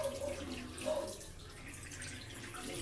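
A bathroom tap runs with a soft, steady stream of water during face washing, faint and continuous with a light splash.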